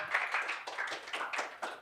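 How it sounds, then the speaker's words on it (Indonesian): A church congregation at a Sunday worship service claps for God in quick, fairly steady bursts, heard faint and a little distant with no voice over it. "Kasih tepuk tangan dulu buat Tuhan kita."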